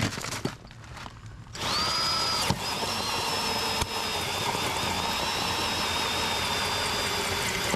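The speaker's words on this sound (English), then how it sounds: "Tom has to drill a hole in there to get our catch basin pipe into the chamber system" A steady, loud whining power drill runs continuously after a few brief quieter moments, with a couple of sharp clicks as it bites through a stormwater chamber to fit a catch basin pipe.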